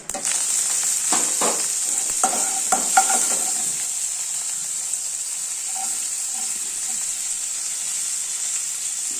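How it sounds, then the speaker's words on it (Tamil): Onion, carrot and cabbage with green chilli, ginger, curry leaves and coriander sautéed in a pan make a bright, steady hiss, with a few quick spatula scrapes and clinks early on before settling into an even sizzle, no voices. "எல்லாமே நல்லா ஒரு வதங்க வதங்கிக்கலாம்"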